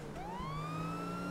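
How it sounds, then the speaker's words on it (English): A police siren in GTA 5 starts up and climbs in a single rising wail, loud and close, sustained over a low engine rumble. "turn on this police siren so we can thoom back"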